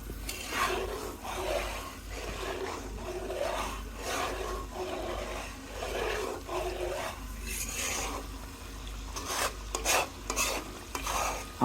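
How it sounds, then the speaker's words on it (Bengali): Homemade ghee is stirred in a pan, a spoon rasping rhythmically across the bottom in repeated strokes over a faint continuous sizzle, close and fairly quiet with no speech. "আমাদের ঘি প্রায় প্রস্তুত হয়ে গেছে মোটামুটি আর কিছুক্ষণ আমাদের এইভাবে নাড়াচাড়া করতে হবে"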